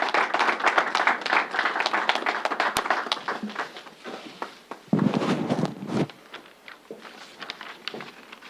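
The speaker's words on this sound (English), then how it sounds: "let's give the Reverend a big round of applause" Applause at a New York governor's coronavirus briefing, a scattered, thin round of clapping from a small room that thins out over several seconds, with a few separate claps near the end.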